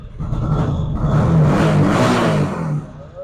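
A used motorcycle engine runs close by, idling then revving up into a loud, sustained mid-pitched roar before easing back down.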